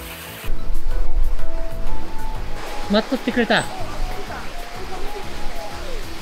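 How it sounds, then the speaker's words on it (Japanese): Water rushes in a steady, broad roar at the Ogawa waterfall in a forested gorge, while people talk nearby throughout. "これがかの有名な小川の滝か。"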